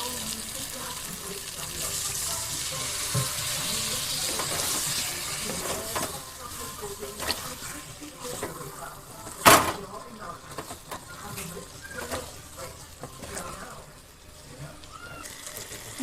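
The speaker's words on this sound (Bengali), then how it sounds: "সামান্য একটুখানি জল দিয়ে আলুর সাথে মশলাটা মিক্স করে নেবো আগে।" Water pours into a pan of potatoes and spices while cooking, a steady hissing splash in the first half that is followed by a sharp clink and quieter stirring, with a voice talking now and then.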